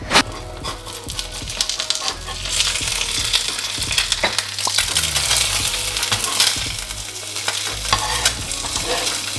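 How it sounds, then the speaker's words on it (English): An egg frying in a pan during a home breakfast, a steady broadband sizzle running throughout with scattered clinks and scraping of kitchen utensils, fairly loud and close, with no talking. "So my egg is just heating up on there"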